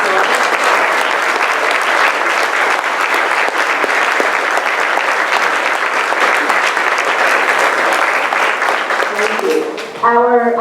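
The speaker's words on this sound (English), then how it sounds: "Let's give them a warm round of applause." An audience gives a warm, sustained round of applause for teacher mentors and supervisors at a school board meeting honoring new tenured teachers, steady dense clapping for about ten seconds before it fades and a voice begins speaking.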